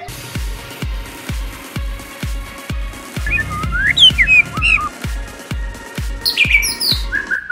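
A white-rumped shama sings loud whistled phrases and chirps, rising and falling, over a steady, regular thumping beat in the background.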